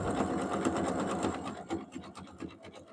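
A Singer Heavy Duty sewing machine stitching steadily, its needle clattering in a fast even rhythm close by, slowing and stuttering toward the end.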